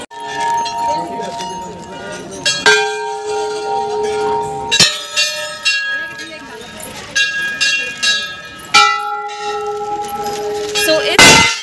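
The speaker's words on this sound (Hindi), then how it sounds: "सो इस तरीके में तो इतनी सारी घंटियाँ हैं" Bells ring at the Golu Devta temple, with several sharp metallic strikes each leaving a long ringing tone. The strikes repeat at uneven intervals amid a crowd and people talking.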